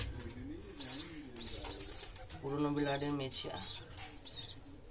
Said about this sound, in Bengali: এই হচ্ছে একটা আন্দ্রা পায়রা